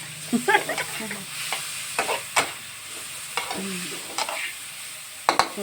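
Minced meat mixed in a pan is stir-fried, with a steady soft sizzle under repeated sharp scrapes and clanks of the spatula against the pan, close up and without speech.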